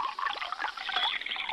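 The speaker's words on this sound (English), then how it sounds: "A splash of raspberry syrup," Raspberry syrup splashes into a glass for an Italian-inspired drink, a short, faint liquid trickle and pour lasting just over a second.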